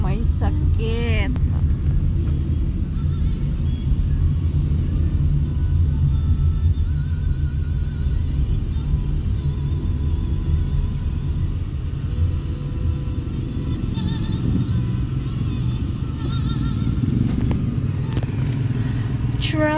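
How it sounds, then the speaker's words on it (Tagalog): Road traffic rumbles steadily and loudly from close by, with engines droning, passing vehicles and occasional clatter, while people talk over it. "Traffic again."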